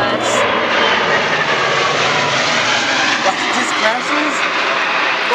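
Loud airplane engine roars very close overhead at an air show, a sustained, wide, dense roar filling the whole clip while spectators exclaim over it.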